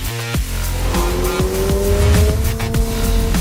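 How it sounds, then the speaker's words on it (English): A 2022 Subaru BRZ on sport tires is driven hard around a racetrack, its engine loud and close with rising and shifting revs, broken by sharp gear changes and tire noise. "I can put this car anywhere I want on the racetrack."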